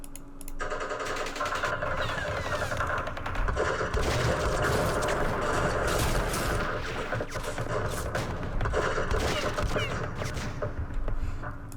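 Dense, continuous crackle of rapid gunfire from two units in the Campaign Series Vietnam war game, with overlapping bursts and volleys sustained at steady loudness for the whole stretch, with no talking.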